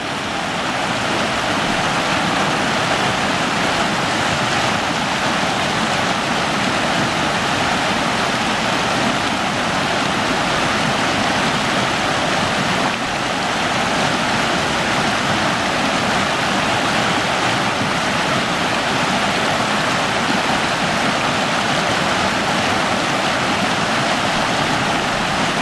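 The Virgin River flows through Zion National Park in a constant, dense rushing roar of moving water that holds steady and loud throughout with no pauses.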